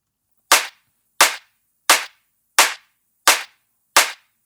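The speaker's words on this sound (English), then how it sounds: "The clap is the same way. It's a couple different layers, basically like all my own like clap layers." A layered clap sample in a drum and bass track hits six times at an even, steady interval, each strike sharp and bright with a short decaying tail, heard alone with no other instruments.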